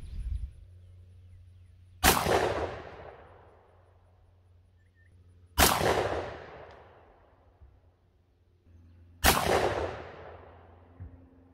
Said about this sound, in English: get set up on the chronograph and on the target and shoot our 3-shot group